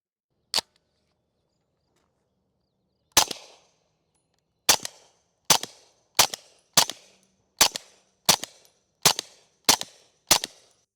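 A B&T TP9 pistol fires on dirt and steel targets at an outdoor range: one sharp shot, a pause, then ten loud cracks in a quick, evenly spaced string, each dying away quickly.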